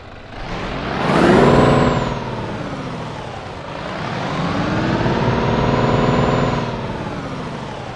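A Scania Super heavy truck engine in Euro Truck Simulator 2 cranks and rumbles to life, settling into a deep idle with a hiss of air partway through; no voices.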